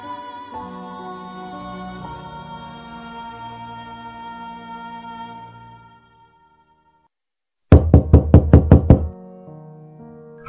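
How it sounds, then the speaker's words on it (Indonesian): After a stretch of sustained tonal music and a brief silence, a quick burst of about seven rapid, loud knocks on a house door. "Terdengar, ojol tersebut tergesa-gesa mengetuk pintu rumahnya."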